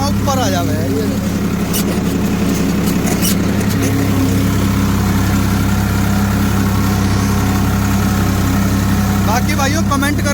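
Farmtrac 45 Powermaxx tractor engine labouring under load in a field, a steady loud low diesel drone with a constant throb, while someone talks over it at the start and end.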